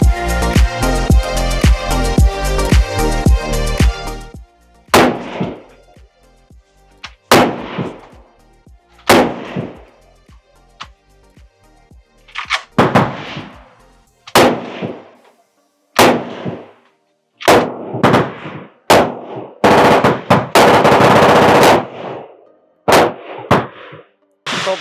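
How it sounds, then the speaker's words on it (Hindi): An original AK-47 rifle fired at a shooting range at the Cu Chi Tunnels near Ho Chi Minh City: loud, sharp single shots at irregular intervals, ending in a tight cluster of rapid reports, with a dense ringing passage at the start. "हमने ओरिजिनल AK-47 से फायर किया।"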